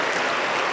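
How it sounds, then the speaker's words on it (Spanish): Pentecostal church congregation breaking into applause for Jesus during a deliverance service, a dense, steady wash of clapping filling the room for under a second. "¡Aplauso para el Señor Jesús!"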